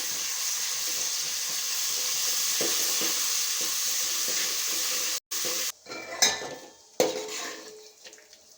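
Ginger-garlic paste fries in a pan of oil for a poha tempering with a continuous close sizzle. Toward the end come clinks and scrapes of a utensil against the pan, and no voices are heard.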